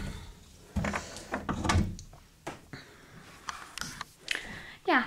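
A kitchen window slides and bumps shut with a few wooden knocks and scrapes, close by, followed by soft handling noises.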